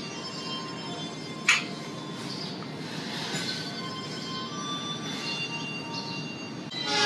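An Argo Semeru executive train on the southern Surabaya–Jakarta line rolls away, heard from inside as a steady low rumble with faint high wheel squeal tones and a brief sharp clank.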